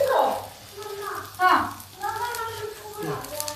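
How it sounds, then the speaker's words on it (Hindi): Bitter gourd (karela) frying in a pan with turmeric and chaat masala, a steady close sizzle with stirring scrapes, under a voice talking. "अब इसको हम फ्राई करते हैं"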